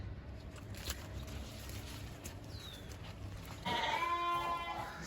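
A ewe loose in a wet cornfield gives a clear, close bleat near the end, over a rustling outdoor background.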